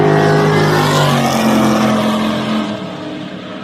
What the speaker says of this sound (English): First, we've got ourselves a clean start, which means we've got ourselves a drag race